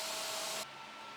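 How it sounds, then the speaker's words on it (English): A CPAP blower used as part-cooling on a fast Ender 5 Pro 3D printer whirs with a loud, steady broadband hiss that drops abruptly to a quieter level midway, with no talking. "The CPAP system is so loud."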